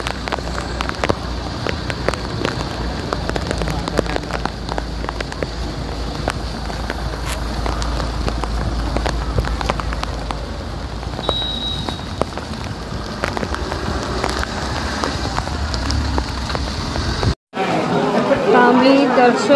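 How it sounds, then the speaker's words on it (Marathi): Heavy rain pours steadily during a family pilgrimage walk on a stone path lined with stalls, a constant dense hiss close around the listener with voices talking over it. "खूप पाऊस आहे"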